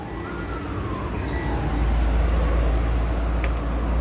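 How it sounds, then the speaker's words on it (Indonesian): A Mazda 2.5 turbo engine with a hard-starting fault is cranked by its starter, a steady loud low rumble rising after about a second and a half and running on without pause, with no talk. "jadi kita akan lakukan starter"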